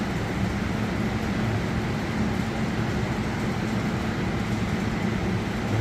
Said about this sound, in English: Now here's this non-in-service train in the background.